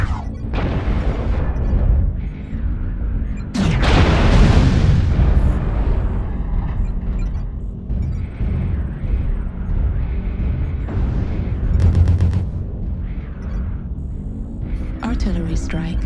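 Artillery strike explosions in a video game, a loud booming blast with a long rumbling tail, then further muffled detonations under game voice announcements and ambient battle noise.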